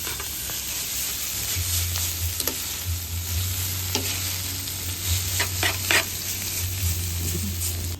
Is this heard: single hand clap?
no